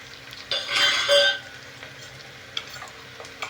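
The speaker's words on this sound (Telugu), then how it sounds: "బాగా ఫ్రై అవుతా ఉంది. చూడండి, బాగా ఫ్రై అవుతా ఉంది." Chopped onions and chilli fry in oil in a pan for chicken biryani, with a short burst of sizzling and stirring that then fades to a faint, quiet crackle.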